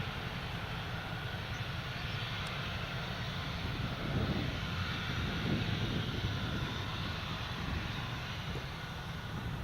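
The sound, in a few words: aircraft taxiing on the runway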